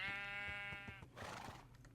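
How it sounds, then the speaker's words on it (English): A Minecraft sheep gives one clear, sustained bleat, then a short breathy rustle follows; it sounds close and there is no talking. "Ah, a sheep."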